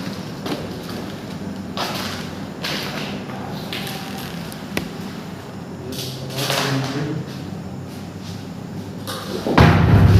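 A door in a reputedly haunted school building moves and thuds, giving several dull knocks and bumps at irregular moments over a low hum of room noise, with a heavier thump near the end.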